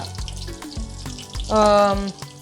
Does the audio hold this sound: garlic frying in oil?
yes